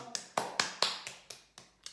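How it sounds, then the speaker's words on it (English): Hand claps in a healing ritual to cleanse a space, made while moving in a counterclockwise circle: about eight sharp, separate claps at an uneven, unhurried pace, close by and moderately loud, with no talking. "cleanse our space by clapping in a counterclockwise circle"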